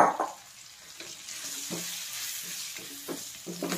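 Drumstick leaves tossed into spices frying in oil and stirred, with a steady sizzle and repeated scraping stir strokes in the pan, close and moderately loud, with no talking.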